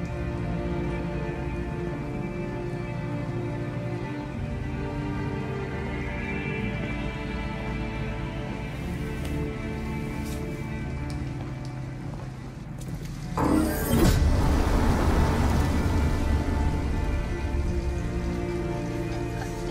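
Steady pouring rain hisses in a city street scene of the Detroit Become Human video game, swelling louder and heavier partway through as a vehicle rumbles nearby, with no speech.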